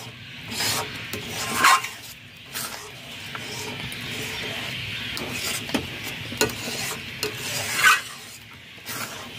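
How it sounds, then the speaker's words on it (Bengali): Patishapta filling with cardamom powder being stirred and mixed in a pan, a rhythmic scraping and rubbing of spatula against metal with a light sizzle, in repeated strokes. "ভালো করে নাড়াচাড়া করে মিশিয়ে নেব।"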